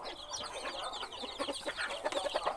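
Chickens in a backyard coop with a chick nursery pen cluck in quick, overlapping bursts, close and steady with no talk.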